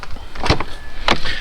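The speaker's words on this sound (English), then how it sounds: "So you got, of course, soft closed doors." A Mercedes S63 AMG 4Matic W222 soft-close door pulls itself shut with two quick, close mechanical whirring bursts separated by a short pause, all within a second or so, with no voices.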